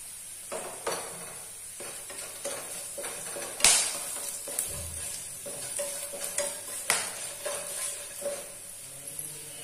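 Whole spices, cinnamon, stone flower, black pepper, cloves and cardamom, sizzle in hot oil in a pan for a paneer kofta curry. A steady close hiss runs under scattered stirring scrapes and one sharp metallic clink, with no talking.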